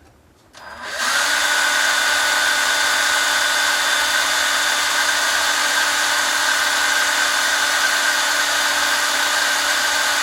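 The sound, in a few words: homemade Maytag upright engine running at about 11,000 RPM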